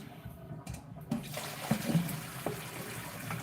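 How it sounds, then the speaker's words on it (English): Running tap water pours steadily into a sink while potatoes are rinsed under it, with a constant close splashing wash and a few brief clunks and bumps. "We have some potatoes right here that I'm rinsing off."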